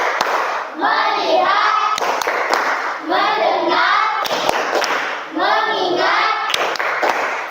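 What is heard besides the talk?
class doing the rhythmic "tepuk fokus" clapping ice-breaker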